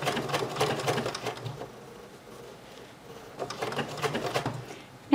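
Sewing machine running steady stitching runs while embroidering a tightening curve, a buzzing rapid whir that pauses midway as the presser foot is lifted and pivoted, then resumes, close and fairly loud.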